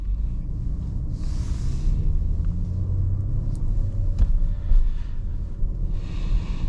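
A 2024 Audi A7 Prestige on the move, giving a steady low road rumble with some wind noise throughout, close and continuous with no voices.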